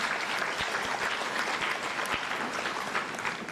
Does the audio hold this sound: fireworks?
no